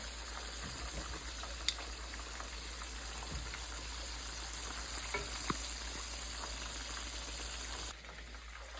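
Pieces of southern fried chicken frying in hot oil give a quiet, steady sizzle with a few faint pops and crackles, and the hiss drops away slightly near the end.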